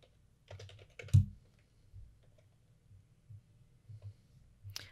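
Sparse keystrokes on a computer keyboard, close and quiet, tapping out a short name in irregular bursts with one louder clack and brief pauses between keys.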